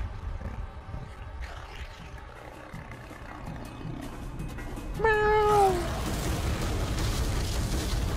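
A single rising-then-falling cat meow in the video game X-Blades, loud and clear for about a second, over a dense background of game noise and music.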